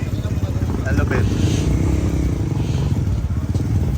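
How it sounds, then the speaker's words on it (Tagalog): A motorcycle rumbling and revving close by as it is loaded onto a river crossing raft on the Daraitan river in Tanay, Rizal, Philippines, a loud low engine chug with clatter, with people talking over it. "Kakarga pa isang motor, oh."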